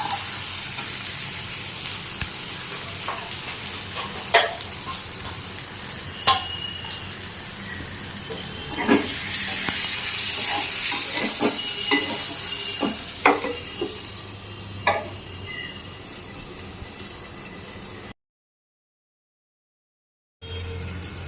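Chicken curry with tomatoes cooks in a covered kadai on low flame, a steady close bubbling sizzle with scattered light clicks and scrapes, fading near the end with a short silent gap, no talk.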